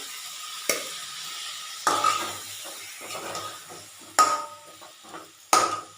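Chili powder, cumin powder, garlic and ginger masala sizzles in a pan. It is punctuated by several sharp bursts of stirring and scraping, with softer frying hiss between them.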